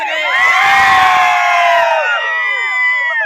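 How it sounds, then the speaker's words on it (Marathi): A crowd of men and children cheers and whoops loudly at a village cricket tournament prize ceremony, a burst of shouting that swells and then fades over a few seconds. "जल्लोष सगळ्यांचा"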